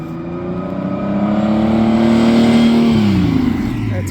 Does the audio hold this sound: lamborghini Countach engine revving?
yes